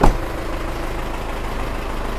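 A 20-year-old car engine with about 219,000 on the odometer, idling right after starting, gives a short burst at the start and then settles into a steady, even rumble, close and alone with no talk.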